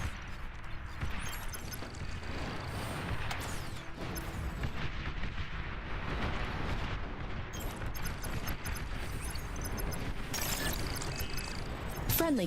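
A commander unit blows up in the Beyond All Reason strategy game amid a dense, continuous roar of battle explosions and gunfire-like blasts, with a game announcer voice faintly heard over it.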